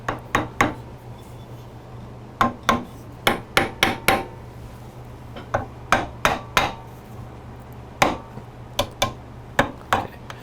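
A hammer taps wooden dowels into a wooden wine rack in sharp, irregular clusters of knocks, some in quick double or triple strikes, close and clear over a low background hum, with no talking.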